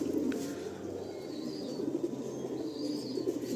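Pigeons coo softly and repeatedly at close range in a loft during a sale, a low continuous murmur of several birds with occasional faint chirps and no talking.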